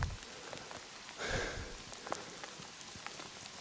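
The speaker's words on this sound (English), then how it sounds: "it's because of the rain" Rain patters softly and steadily on surfaces in an abandoned modern neighbourhood. Scattered drops land close by, with a brief swell partway through.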